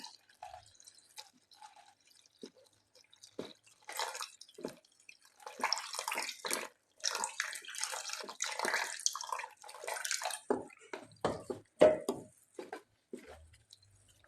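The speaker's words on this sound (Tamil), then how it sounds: "இப்போ அந்த வாழை இலை தண்ணியை ஊற்றி கட்டி இல்லாமல் கரைச்சிக்கலாங்க" Banana leaf water poured into flour for a quick halwa, with irregular splashing, dripping and wet stirring sounds close by, growing busier midway and trailing off with quieter scrapes.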